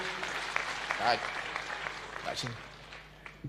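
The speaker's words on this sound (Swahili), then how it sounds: "Ndio huyo, mpigieni makofi." An audience at an interdenominational church service in Kerugoya Stadium, Kirinyaga County, gives soft, distant applause that runs beneath a voice over a public address system.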